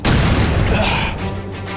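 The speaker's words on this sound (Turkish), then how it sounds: "Bomba! Yere yatın." A bomb exploding during an armed attack: a loud, close boom that bursts at once and rolls on in a broad rumble, tailing off slowly.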